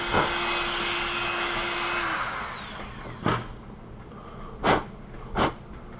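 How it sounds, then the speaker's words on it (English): A Dremel rotary tool grinds out an off-center drilled hole in a Boba Fett Stormrider replica prop, starting as a high steady whine that winds down, followed by a few short separate bursts of grinding. "It's a little off center. I can Dremel this out."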